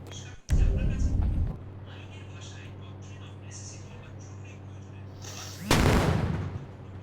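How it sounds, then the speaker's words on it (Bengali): Gunshots fired in a 3D Indian bike-driving video game: two loud, sharp game shots about five seconds apart, each followed by a short rumbling tail over a quiet hum. "দেখি তো, গুলি করে দেখি।"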